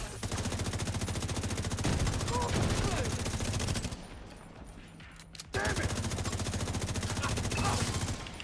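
Rapid automatic gunfire in a video game, a dense, steady stream of shots that runs loud for several seconds, breaks off briefly, then resumes with equal force.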